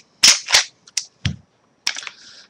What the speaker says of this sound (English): And then we're going to go ahead and take the slide off.